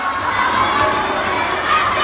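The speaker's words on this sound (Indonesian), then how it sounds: "Tepuk tangannya mana?" A dense crowd at a fan meetup in Jakarta cheers and screams with high-pitched shouting and applause, loud and continuous throughout.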